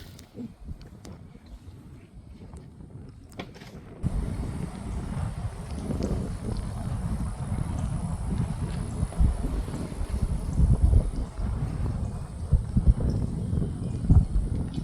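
Wind blows outdoors and buffets the microphone, rising after a quieter start into a steady, gusty roar that lasts to the end.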